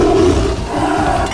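A tiger lets out a single loud, close roar inside the video game Gorilla Tag, a rough growling burst lasting just over a second with no talk.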